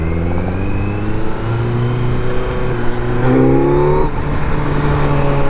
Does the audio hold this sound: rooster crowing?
no